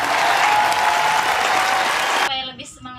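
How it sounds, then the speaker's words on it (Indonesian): A classroom of students claps together as a group, a dense, steady burst of applause that rolls on for a couple of seconds, then stops abruptly and trails off into brief muffled room sounds. "Jadi kita tepuk tangan dulu untuk"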